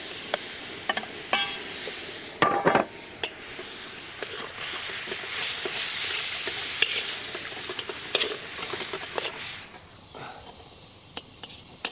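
Minced lamb frying with garlic and ginger paste in a pan over a gas flame in Amritsar, India, a steady loud sizzle and hiss broken by stirring scrapes and clacks.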